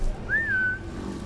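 A single short rising-then-falling whistle in the Assassin's Creed Origins game, clear and fairly loud over a low background rumble.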